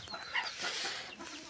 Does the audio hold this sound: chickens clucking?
yes